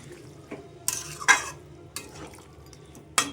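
A spoon stirs Malabar spinach stems and hilsa fish head in a pan over a full flame, giving several separate scraping strokes and clanks with a soft sizzle between them, close up and without speech.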